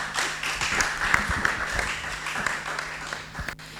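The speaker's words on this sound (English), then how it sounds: "A round of applause for her, please." A round of applause from an audience for a woman handing over after her talk on the causes of prostitution, steady mixed clapping filling the room for a few seconds before fading.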